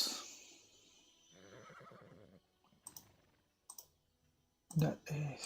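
A horse neighs in the video game Age of Empires Mobile, a loud whinny near the end that follows quiet game clicks and a stretch of voiced game sound.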